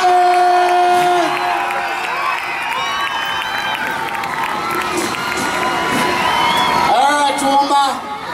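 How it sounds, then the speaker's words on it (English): Crowd at the Toowoomba Show applauding and cheering after a performance, loud sustained clapping with whoops and children's shouts, while a presenter talks over it on the PA. "Hey, yes, Toowoomba, round of applause"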